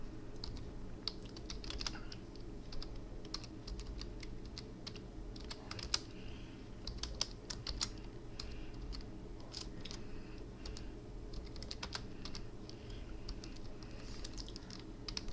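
Code typed on a computer keyboard, a quiet, steady run of close key clicks with irregular bursts and brief pauses over a faint background hum, no talking.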